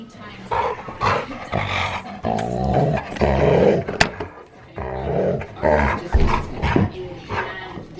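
A dog growls and barks over a toy in bursts of rough snarls and yaps, close and loud, mixed with people talking.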